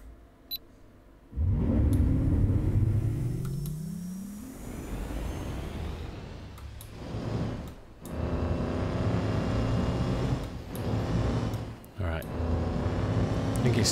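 The Cyclone ground vehicle in Star Citizen starts up and drives. A rising engine whine turns into a loud, continuous rumble with brief dips as it moves, close and steady throughout.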